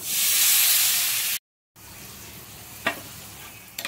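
Spiced masala frying in oil while stirred for a yogurt jackfruit curry, a loud dense sizzle that cuts out abruptly, then a quieter simmering hiss with a couple of sharp scrape clicks.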